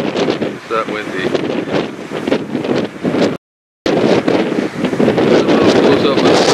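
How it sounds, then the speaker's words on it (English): Heavy wind buffets the microphone in loud, roaring gusts at a spot overlooking seals, with a brief dropout midway and a person speaking faintly beneath the noise. "The wind's really shaking me around here."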